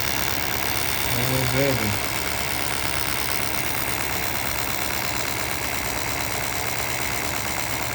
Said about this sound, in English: And the wheel's increasing speed.